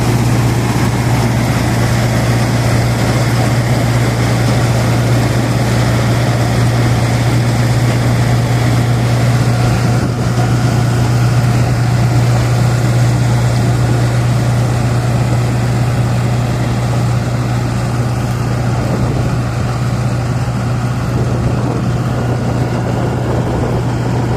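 A straw thresher driven by a Ford 3600 tractor running at about 1800 rpm while making wheat straw: a loud, steady engine drone with a constant mechanical whir that stays unchanged throughout, with no voices.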